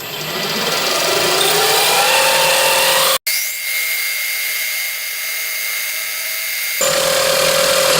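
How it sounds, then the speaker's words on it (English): A bit drills a 5/8-inch, 18 mm-deep bearing hole in metal stock for a Stuart Turner Number 8 mill engine. A loud, steady machining whine runs throughout, with a momentary break and a shift in tone midway. "So I'm drilling the full depth of the bearing, which is 5/8 of an inch, so we'll go to 18 millimeters deep."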